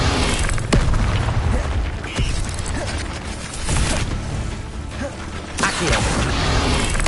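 An Expelliarmus spell is cast in Hogwarts Legacy, giving a booming, whooshing magical burst amid rumbling, mechanical-sounding game effects, with several sharp impacts spread through the stretch.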